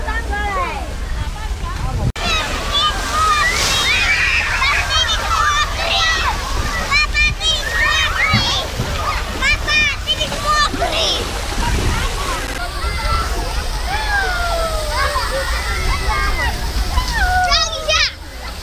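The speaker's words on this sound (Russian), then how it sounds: "как вода бьет. Круглый день просто льется из-под земли" Steady rushing and splashing of a ground fountain in a children's park in Guangzhou, China, runs throughout, with children's voices and chatter mixed in over the continuous spray.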